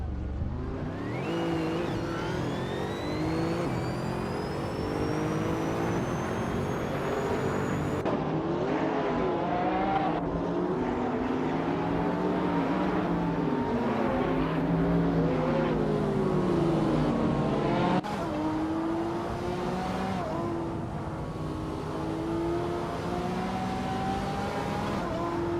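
Race cars in a racing game roar past in a continuous stream, with engines revving and rising in pitch, layered overlapping motors and occasional tire noise, loud and close with no talking.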